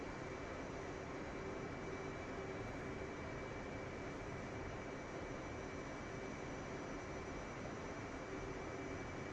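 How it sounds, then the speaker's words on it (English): F/A-18 Hornet jet engine in the flight simulator DCS, a steady broadband roar with a constant high whine, droning evenly without pause. "I still hear my engine."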